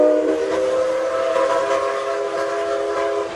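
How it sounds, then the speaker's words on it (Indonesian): A steam-powered train sounds its whistle in a loud, sustained, steady blast that holds for several seconds, with a rushing rail rumble underneath and no talking. "muncullah kereta api berbahan bakar uap"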